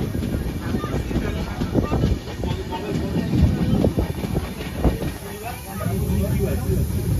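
The Darjeeling Mail train running, a continuous close rumble and rattle of the carriages with faint hiss, steady throughout.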